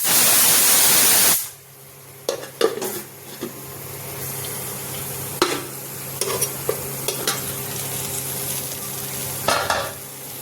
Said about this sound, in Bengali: যতক্ষণ না মশলার গন্ধ যাচ্ছে ততক্ষণ কষাতে হবে।